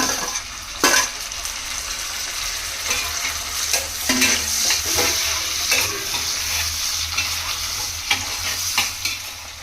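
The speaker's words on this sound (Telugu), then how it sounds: "ఇప్పుడు మనం టమాటా ముక్కలు వేసేసుకుందాము." Tomato pieces added to softened onions in a hot pan fry with a loud, continuous sizzle, broken by several close stirring scrapes and clinks, with nobody talking.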